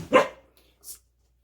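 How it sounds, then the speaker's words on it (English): Pet dogs scuffling over toys let out one sharp, close bark, followed by a brief, faint high yip, then quiet. "My dogs are participating down below, so they're barking at one another because they're fighting over toys"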